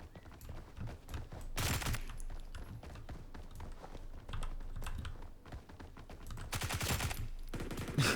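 An invisible gun in the BRM5 video game fires in rapid automatic bursts, loud and close, with several sharp volleys separated by brief pauses and a clicking keyboard rattling underneath.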